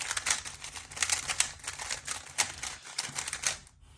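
A Rubik's cube is scrambled quickly, giving a dense run of rapid plastic clicks and clacks over about four seconds, close and fairly loud, with no talk.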